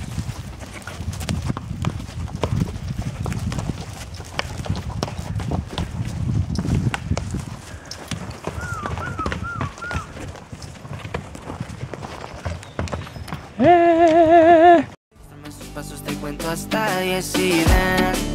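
Pack horses walking off along a Sierra Nevada mountain trail, their hooves clip-clopping at a steady plodding rhythm, fairly close and moderately loud, with outdoor ambience and wind around them.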